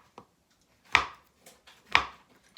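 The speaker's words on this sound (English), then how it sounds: "first I'm gonna start with chopping my mushroom." A knife chops a mushroom on a cutting board: one light tap, then two firm, evenly spaced strikes about a second apart, each alone with quiet between.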